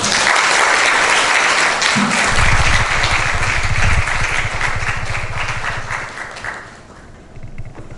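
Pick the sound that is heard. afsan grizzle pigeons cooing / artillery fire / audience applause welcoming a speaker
audience applause welcoming a speaker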